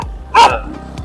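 A dog gives a single sharp bark, loud and close, followed by faint background noise.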